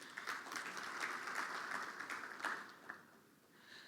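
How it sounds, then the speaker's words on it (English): Applause from a supply chain conference audience, a dense steady patter of clapping that swells and then gradually tapers off. "A big round of applause for Mustafa, please."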